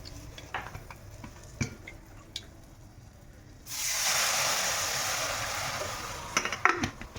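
Butter and Maggi masala in a pan break into a steady, close sizzle partway through, after quieter stirring clinks, and a few sharp utensil taps return near the end.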